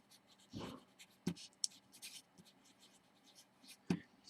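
A pen or pencil scratches out a fraction by hand in short, soft strokes and taps, faint and close, with brief pauses between marks.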